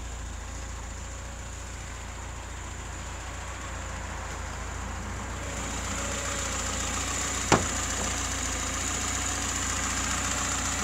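A restored 1973 VAZ 2102 Zhiguli with a 1.5-litre engine and 73 carburetor idles with the hood open, a steady low mechanical hum close by that grows a little louder midway, with one brief sharp click.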